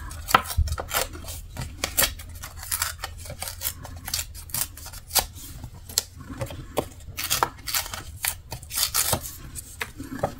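Paper is torn by hand for a scrapbook art collage, heard as irregular bursts of short, crisp ripping and crackling sounds close by, scattered over about ten seconds with quiet pauses between them.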